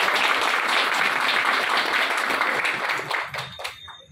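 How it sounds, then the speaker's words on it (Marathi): An audience claps in dense, loud applause that holds steady, then thins into scattered claps and dies away near the end. "सर्वांनी टाळ्या वाजवून त्यांचं"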